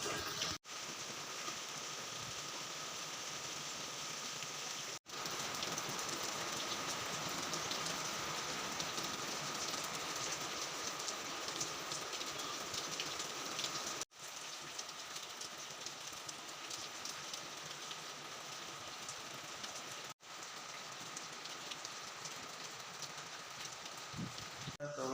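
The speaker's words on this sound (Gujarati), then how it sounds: "8:30 થઈ ગયા છે અને અત્યારે વરસાદ પણ આવી રહ્યો છે" Monsoon rain falls steadily in the morning, a continuous broadband hiss of drops on surfaces that holds at an even level for the whole stretch, broken only by a few brief dropouts.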